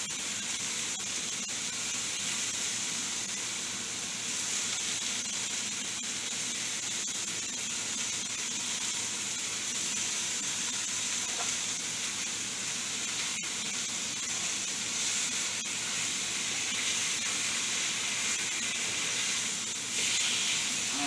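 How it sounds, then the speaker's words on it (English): Asparagus spears laid into a hot skillet sizzle with a steady, broad hiss that holds at an even level throughout, with no talking. "we're going to go lay these into the hot skillet"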